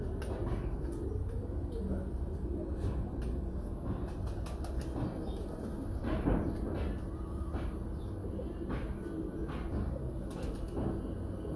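Pigeons and chickens in a Los Angeles pet store coo and rustle at moderate distance, with scattered wing flaps and clatter, faint under a steady background.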